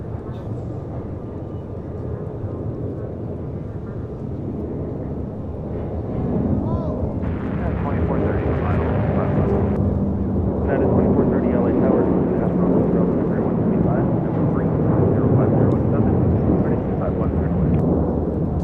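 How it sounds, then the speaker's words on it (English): All Nippon Airways Boeing 787-9 Dreamliner, Flight 5 Heavy, taking off from LAX for Tokyo Narita: a broad jet roar builds and holds loud and steady, with voices talking over it throughout. "This is All Nippon Airways Flight 5 Heavy taking off to Tokyo Narita on a 787-9 Dreamliner."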